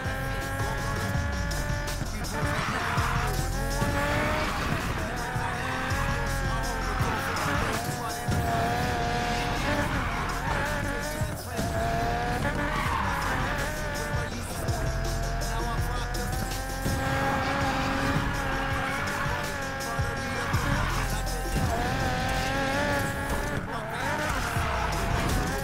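Video game car racing with engines droning and tires squealing through drifts, a dense, continuous wash of motor noise and skids at steady loudness, with a voice likely talking underneath.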